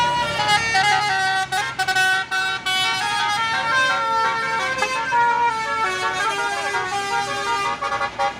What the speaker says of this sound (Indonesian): Ada truk ganteng full telolet.